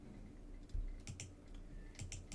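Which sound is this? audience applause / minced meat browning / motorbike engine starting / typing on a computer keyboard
typing on a computer keyboard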